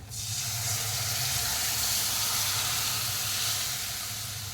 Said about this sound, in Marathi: आपण फोडणीमध्ये जे येळण गाळून ठेवलं आहे ते घालून घेऊयात